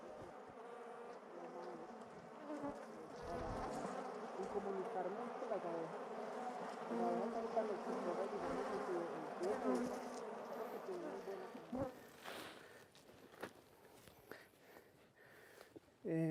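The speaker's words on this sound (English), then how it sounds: "These are Africanized bees." A dense, steady buzz of many Africanized honey bees at a beekeeping site hums continuously nearby, with faint voices and rustling mixed in toward the end.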